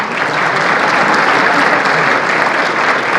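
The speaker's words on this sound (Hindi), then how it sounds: "और तालियां बजाएं।" Sustained, dense applause from a large audience at a formal Indian court function in Hisar marking a Chief Justice's visit, loud and steady throughout with no pauses or talk.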